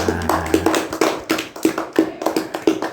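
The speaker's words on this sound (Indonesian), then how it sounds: "Hebat. Tepuk tangan." A single pair of hands claps repeatedly in a steady, quick rhythm, crisp and close, with no voices.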